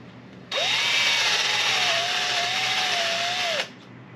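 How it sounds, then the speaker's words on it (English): A power drill bit bores out a fishing rod holder in a steady, loud, high whine lasting about three seconds, starting and stopping abruptly with no talking. "take my drill bit and just hog it out just a tiny bit"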